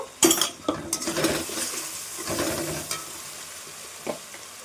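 Spice masala with turmeric and red chili powder frying in a pan as it is stirred: sharp spoon-on-pan clatter and scraping over a steady close sizzle, loudest at first and then easing off, with no talk.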